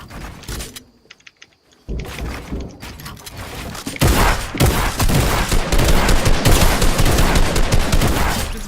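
Video game gunfire in a 1v1 match, starting with a few sparse shots, then building into dense rapid bursts of automatic fire that grow louder and fill the second half.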